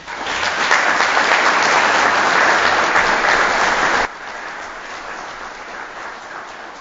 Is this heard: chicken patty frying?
no